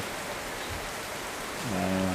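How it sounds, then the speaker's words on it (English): Heavy rain pours down steadily at a lodge in Kruger during flooding, a dense continuous hiss; a low tonal hum joins in near the end. "It's been pouring this morning, absolutely bucketing down."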